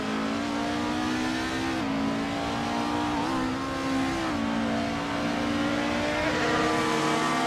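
Several race cars, including a 2018 Chevrolet, accelerate at the start of a race at the Circuit of the Americas, a steady loud engine drone with rising pitch and repeated gear shifts, near and continuous.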